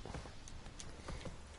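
Horse hooves on the ground in The Witcher 3: Wild Hunt video game, a few soft, uneven clip-clops at a low level, with no voices.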